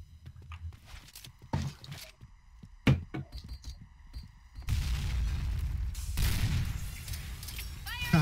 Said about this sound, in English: I'm gonna pull out my M4s